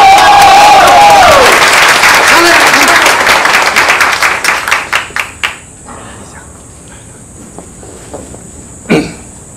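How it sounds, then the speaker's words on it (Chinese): Wedding guests break into loud, dense applause that thins over several seconds into a few sparse, separate claps, then fades to a quiet room with one last brief burst. "来鼓掌"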